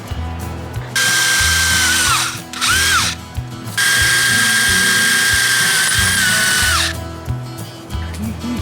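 A power drill spins a bit during work on a 1972 Johnson 25 hp outboard, whining loudly in two long bursts with short spin-ups and stops between, close to the microphone over a ticking mechanical background.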